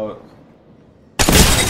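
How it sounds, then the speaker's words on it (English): An enemy's shield cracks in Apex Legends: after a quiet stretch, a sudden loud burst of glassy, shattering noise hits and keeps ringing to the end. "Cracked an enemy shield."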